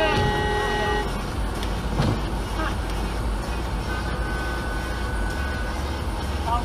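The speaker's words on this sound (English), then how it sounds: "I don't know what you're honking for." A car horn honks in busy road traffic, heard through steady vehicle noise with tones held for about a second, while people talk inside the car.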